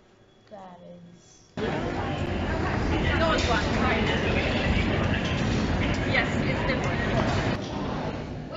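A train rumbles in loudly after a quieter start, a broad steady roar holding for several seconds before easing slightly, with faint voices in the background.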